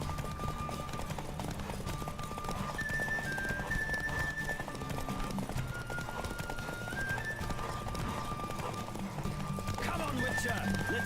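The horse Roach gallops in The Witcher 3 race, steady rapid clip-clop hoofbeats throughout with a whinny, under game music and a talking voice.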